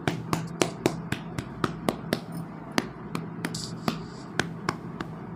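Sharp taps hit fabric to transfer a blouse neck marking for Aari embroidery, roughly twenty close, crisp knocks in a quick, slightly irregular rhythm over faint background hum.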